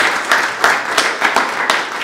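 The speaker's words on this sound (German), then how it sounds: "Lass uns nochmal einen Applaus geben." A church congregation at a German-language worship service claps together in applause, a steady run of loud, close hand claps with repeated swells over about two seconds and no talking.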